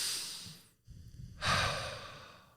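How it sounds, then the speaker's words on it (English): Two slow, deep breaths in and out through the nose, close and clear, each a long airy rush that swells and fades, with a short quiet gap between them and no talk. "in and out through the nose."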